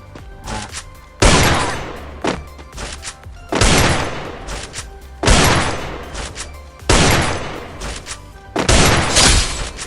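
Five loud, booming Desert Eagle pistol shots ring out in the Free Fire shooter game, spaced about two seconds apart, each followed by a long echoing tail.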